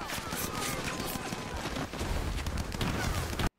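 Bursts of gunfire crackle through a loud, dense din of a World War II beach landing at Peleliu, with shouting voices mixed into the chaotic battle noise.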